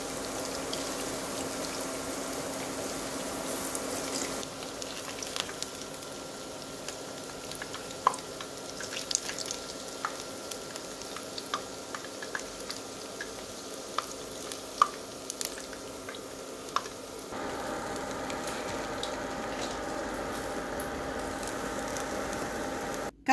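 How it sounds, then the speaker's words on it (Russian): Zucchini patties fry in vegetable oil in a pan over medium heat, giving a steady, moderate sizzle with scattered pops and crackles throughout. "Жарим кабачки до румяной корочки со всех сторон."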